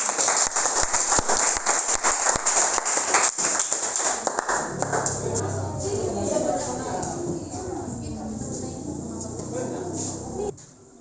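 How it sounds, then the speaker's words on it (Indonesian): A class applauds a student group after its presentation in a school performance test: several seconds of dense, steady clapping from the room, fairly close, following louder scattered sounds and chatter, then cutting off abruptly. "berikan tepuk tangan buat kelompok 3"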